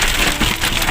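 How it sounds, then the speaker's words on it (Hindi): Heavy rain pours steadily during a flood warning in Abbottabad, a dense, continuous hiss that stays loud and even for the whole second with no voices. "बहुत तेज़ बारिश है"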